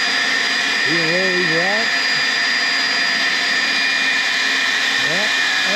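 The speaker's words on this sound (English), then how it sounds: "Yeah, that's a pretty good blower right there" A leaf blower running at its highest setting, hooked up to drive a drywasher, makes a steady, loud, close roar throughout while someone speaks briefly over it.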